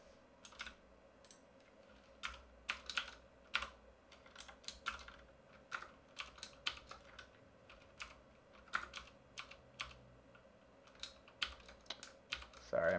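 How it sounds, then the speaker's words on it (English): Typing on a computer keyboard while coding, with quick irregular clusters of sharp key clicks and short pauses between bursts, close and fairly quiet with no talking. "Sorry, my typing is messy today."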